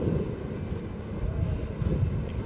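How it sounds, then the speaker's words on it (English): Wind gusting across an outdoor archery field during a recurve bronze-medal match in Mexico City, buffeting the field microphones with a steady low rumble that swells and eases, with no other distinct sounds. "You can hear that wind blowing."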